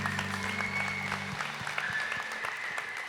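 Audience applause at a Catholic talk on family and holiness, a steady wash of many hands clapping throughout, with a sustained musical tone underneath in the first half.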